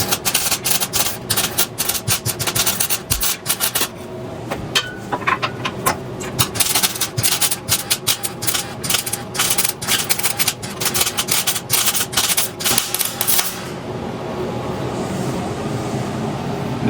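Welding on a junked VW T4 doka to fit a one-off tray back, with dense crackling bursts and sharp ticking strikes running steadily and close up, broken by brief pauses.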